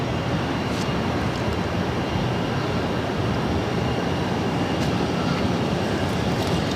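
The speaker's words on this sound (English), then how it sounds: "The Qatar A350-1000 to LAX" Qatar Airways Airbus A350-1000 jet at Boston Logan gives a loud, steady, broadband engine roar that fills the whole stretch without a break, and nobody talks.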